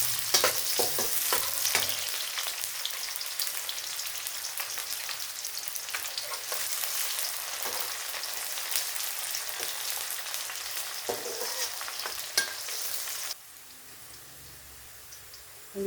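A large onion fries in a pan for mutton roast, giving a loud, continuous sizzle with occasional stirring clicks. It drops abruptly to a quieter hiss near the end.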